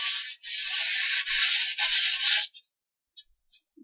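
Sandpaper rubs along the edges of a bug screen frame for the window in a steady, close scratchy rasp of about two and a half seconds, broken by brief pauses, then a few faint small taps.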